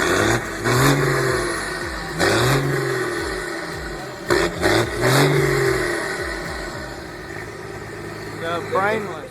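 A car fitted with a loud modified exhaust rumbles and revs in repeated swells over a constant engine drone, close and heavy throughout.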